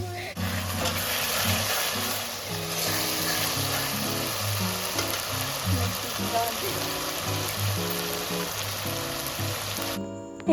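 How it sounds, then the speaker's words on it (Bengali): Masala spices fry in a pan for a meat curry, a steady close sizzle and crackle running throughout with faint stirring, while low background music plays and a brief clatter comes at the end. "এই যে মশলা কষা হয়ে গেছে"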